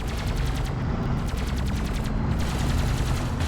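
Sustained automatic gunfire and rapid shots rake a light attack vehicle in a desert skirmish in Deserts of Kharak, a dense continuous barrage with pulsing bursts throughout.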